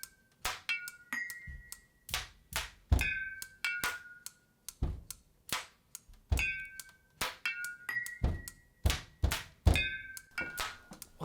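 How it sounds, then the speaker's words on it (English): A beat built from household objects, kitchen appliances, kids' toys and a washer and dryer, with thumping kick and snare hits and metallic clinks and dings in a steady looping groove, fairly quiet. "Now let's add a snare and a kick."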